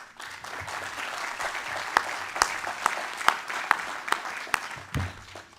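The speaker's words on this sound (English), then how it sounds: "and please give him a round of applause, Mr. Ahmad Zia Mayar." Steady audience applause fills the room at a United Nations event as a speaker is welcomed to the stage, with a few louder individual claps standing out and no voices over it.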